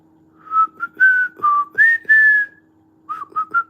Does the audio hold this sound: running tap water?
no